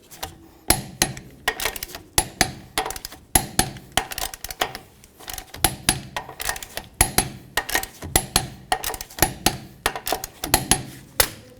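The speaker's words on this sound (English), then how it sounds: "We're going to torque these to 80 foot-pounds." Sharp metallic clicks and knocks from a torque wrench tightening rear axle bolts to 80 foot-pounds on a 1999-2007 Ford Super Duty F-250, arriving in quick irregular bursts, close and fairly loud.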